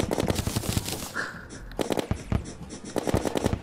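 Rapid bursts of gunfire from the Terraria video game rattle in dense volleys, pause briefly, then resume in quick repeated shots with sharp electronic pops throughout.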